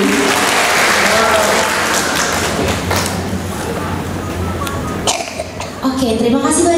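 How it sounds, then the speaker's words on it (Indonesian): Seminar audience clapping together, a dense burst of applause that fades after a few seconds into room noise, thumps and a voice beginning to speak. "Tepuk tangan kita semua."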